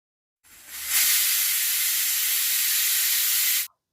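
A kitchen pressure cooker whistle releases steam in one loud, steady hiss lasting about three seconds, starting abruptly and cutting off sharply, with no talking.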